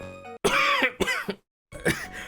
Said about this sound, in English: How come I started coughing like that